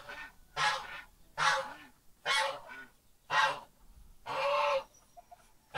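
Domestic goose honking in repeated loud bursts, about six calls roughly a second apart, close by with quiet gaps between.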